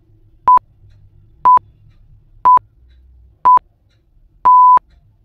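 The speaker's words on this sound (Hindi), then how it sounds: "तो इसका टाइमर शुरू होता है अब" A quiz countdown timer beeping: five evenly spaced, clean electronic tones one second apart, the last one held slightly longer, loud against near silence.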